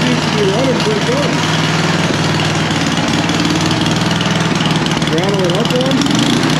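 A snowblower's small engine runs steadily just after starting, with a loud continuous mid-pitched drone and rattling vibration; a person talks over it briefly.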